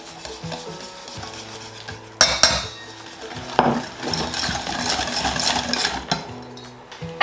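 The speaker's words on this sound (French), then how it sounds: "on va battre les œufs avec le sucre" Eggs whisked with sugar in a bowl for chocolate crinkles, making a busy continuous metallic whirring and clatter that grows denser and louder partway through.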